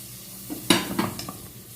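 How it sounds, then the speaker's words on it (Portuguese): Garlic and onion sizzle while browning in a pan for croquette filling, a close frying hiss broken by a few stirring scrapes and light clinks of the utensil. "o alho e a cebola já estão dourando"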